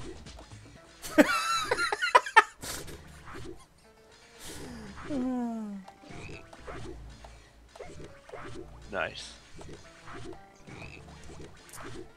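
Frogs croak in the video game Battleblock Theater: a few short, bright croaking calls and pitch-swooping game effects over a quiet, sparse background, with a single brief spoken word.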